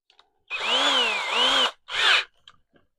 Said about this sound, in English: We're going to taper this fitting.